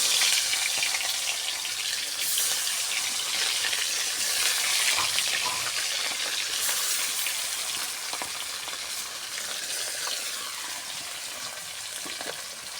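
Marinated khoira fish frying in hot oil gives a steady, dense sizzle and crackle, close and constant throughout with no voices.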